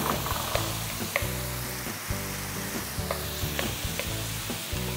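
Pre-cooked Japanese rice sizzles in a hot pan while being stirred, with a constant close frying hiss and repeated scraping, knocking strokes of the spatula at an uneven rhythm, and no speech.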